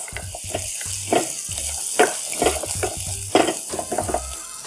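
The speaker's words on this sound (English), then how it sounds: "I'm going to add the finely chopped ginger. Saute it for a few seconds." Finely chopped ginger sautéing in hot butter in a soup pot, a continuous bright sizzle punctuated by repeated utensil stirs and clacks, close and fairly loud, with no voices.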